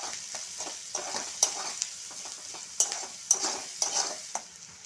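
Salted onions fry in a pan with a soft, steady sizzle, broken by sharp scraping and clinking spatula strokes every second or so, close and unaccompanied by talk.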